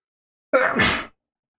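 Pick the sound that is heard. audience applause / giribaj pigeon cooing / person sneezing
person sneezing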